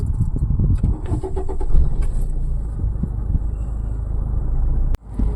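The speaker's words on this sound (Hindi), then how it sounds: "इंजन स्टार्ट कीजिए।" A car engine cranks and starts during a driving lesson, followed by a steady loud rumble of the running engine up close, with a sharp click near the end.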